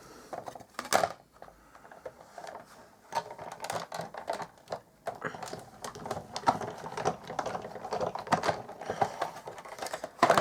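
A Stampin' Up! Big Shot machine embossing card stock through a folder gives a run of close, irregular clicking and cranking mechanical noises, steady throughout with short pauses and no talking.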